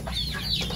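A large mother hen named Basilan clucks close by on a farm, short soft calls over a steady low background of other chickens.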